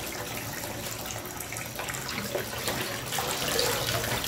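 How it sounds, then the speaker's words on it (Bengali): Leafy greens washed under a running tap, with continuous splashing and gurgling water and faint rustling and handling sounds, close and steady. "আমি 2-3 বার ভালো করে শাকটাকে ধুয়ে নেব।"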